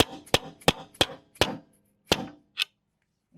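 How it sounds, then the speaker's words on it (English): A hammer strikes a Toyota FJ Cruiser front suspension part to reseat it, with about seven sharp metallic whacks in quick, uneven succession, close and loud, then silence. "So we're going to give it a couple more whacks."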